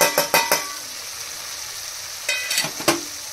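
Spice powders (chilli, turmeric, cumin and coriander) frying in a pan, with a steady soft sizzle and a few sharp scraping stirs at the start and again near the end, no voices.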